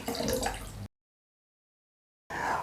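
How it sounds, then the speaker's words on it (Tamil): Plain water is poured from tumblers into a bowl in a home kitchen while making rasam. Two short splashing, gurgling pours are separated by a second and a half of silence. "முதல்ல நான் 5 டம்ளர் பச்சை தண்ணியை நான் ஒரு பவுலில் சேர்த்துக்கிறேன்."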